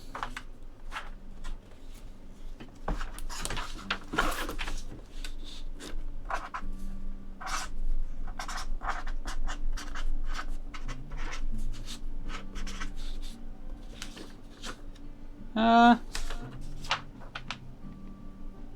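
A pink highlighter scratches across paper in short, close strokes, with quiet pauses between bursts and no talking.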